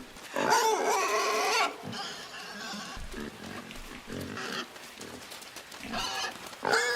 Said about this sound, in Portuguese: Aparece-nos um porco.